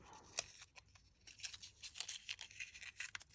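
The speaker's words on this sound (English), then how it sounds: "So I'm going to fold this up" Paper folded and twisted by hand into a small craft flower, giving quiet crinkling and rustling bursts close up, irregular and soft, with no talk.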